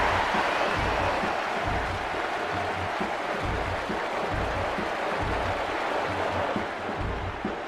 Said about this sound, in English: The crowd are on their feet.